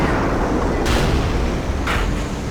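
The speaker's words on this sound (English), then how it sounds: "Take another hit there from the AT-15." A tank in a video game takes a shell hit from an AT-15 tank destroyer, a heavy booming impact over a steady rumbling engine drone, with a second sharp crack shortly after.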